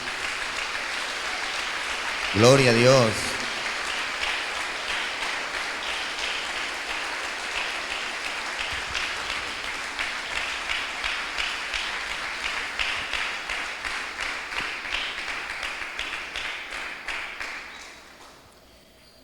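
Congregation in a church service breaks into sustained applause with dense, rhythmic clapping that swells and continues for many seconds, a brief voice rising over it near the start, then fading out at the end.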